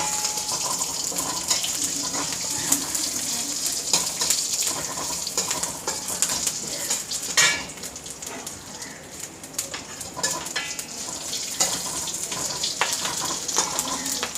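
Food frying in hot oil in a pan while a lunch is cooked, giving a steady crackling sizzle for the whole stretch, broken by occasional sharp clicks and scrapes of stirring.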